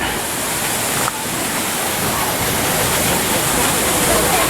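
Steady, dense rush of water filling the whole clip at Knoebels Amusement Park, loud and constant like a nearby waterfall or fast stream, with no voices.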